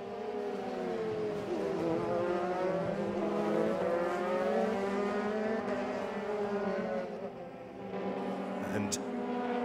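A Euroformula Open race car accelerates on the Jerez circuit, its engine note climbing in rising, wavering pitch sweeps before briefly dropping away, heard at moderate distance under a commentator's talk.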